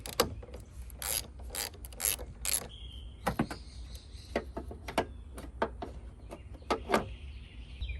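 A 10mm ratchet loosens the negative battery terminal under the hood of a V8 vehicle, giving close, quiet clusters of rapid clicks with short pauses between the strokes.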